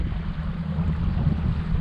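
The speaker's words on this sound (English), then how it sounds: "It's time to open her up and see what we can get out of this brand new 21 PHX." 21 PHX boat driven by a Mercury 250 Pro XS four-stroke outboard, a steady low engine drone mixed with rushing water and wind buffeting, loud and continuous.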